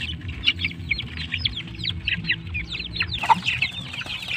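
Chickens cluck and chirp in a steady stream of short calls, several birds close by with a low rumble of farmyard noise beneath, one louder squawk standing out near the end.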